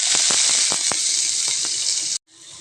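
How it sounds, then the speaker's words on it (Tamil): Chopped onions sizzle loudly in hot oil in a pan, a steady bright hiss broken by a few soft pops, with the sizzle cutting out abruptly near the end before faintly resuming. "வெங்காயம் இந்த மாதிரி நல்லா செவக்க வதங்கட்டுங்க."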